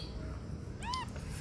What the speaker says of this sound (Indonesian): hari ini tuh ada anak kucing guys